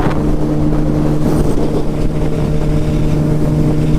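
A turbocharged Suzuki Hayabusa motorcycle engine drones loudly and steadily as the bike rolls on, its buzzing tone mixed with heavy wind rush against the microphone.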